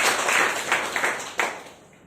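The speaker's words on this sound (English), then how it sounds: "A big round of applause for her." A short burst of applause at a public-speaking club meeting, a small group clapping that starts full, then thins out and fades away with a few last scattered claps.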